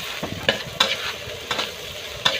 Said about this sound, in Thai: น้ำมันเดือดเราใส่พริกเลยครับ